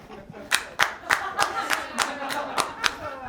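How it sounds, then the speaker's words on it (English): A small comedy-show audience claps, about ten separate sharp claps in a loose rhythm rather than a full ovation, fairly close and brief. "A round of applause."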